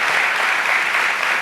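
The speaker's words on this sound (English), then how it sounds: "You can clap for that." A festival audience at a film talk claps steadily, dense even applause filling the hall with no voices on top.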